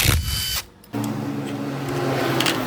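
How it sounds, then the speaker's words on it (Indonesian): A close, loud high-pitched power drill whirs, stops abruptly for a moment, then runs again steadily with a lower grinding tone, removing bolts from the CVT cover of a Honda Vario 150 scooter. "Kita lepas baut-bautnya."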